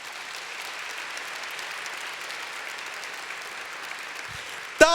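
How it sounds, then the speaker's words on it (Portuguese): A church congregation applauds during a sermon, soft steady clapping spread through a large room, fairly faint and even, ending with a sharp knock or bump. "Vamos aplaudir, gente?"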